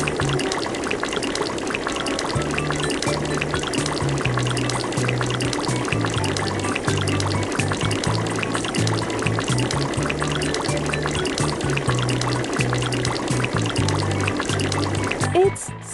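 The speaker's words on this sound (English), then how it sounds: "It's time to rinse off the bus." Cartoon water rinses a bus at a car wash, a steady rushing spray and pour that runs continuously and loudly, with a low droning tone pulsing beneath it.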